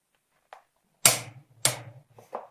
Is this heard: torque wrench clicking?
yes